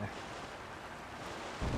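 Fan-propelled boat crossing a river in Zelda: Tears of the Kingdom, giving a steady, even rush of wind and water noise with a louder swell right at the end.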